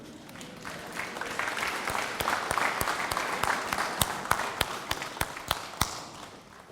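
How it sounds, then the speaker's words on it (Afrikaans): An audience at a church service claps hands, a loose, building round of applause with distinct individual claps standing out near the end before fading, moderately loud. "Kom ons klap hande."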